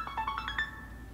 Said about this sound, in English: That's my alarm to remind me to drink more water.